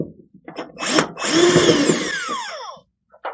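A power drill whirs loudly, backing out screws that hold a ballast on an ESB Galaxy 30 tanning booth. The motor spins up, runs for about two seconds and winds down, and a brief second burst follows.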